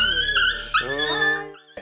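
A young dog at a veterinary clinic, about to receive an anaesthetic, lets out a close, high, wavering whimper that bends upward in pitch. A short yelp comes at the end.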